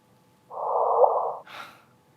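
Replay of the sonified gravitational-wave signal from two colliding black holes, a roughly one-second hissy burst with a tiny rising chirp, followed immediately by a short breathy exhale.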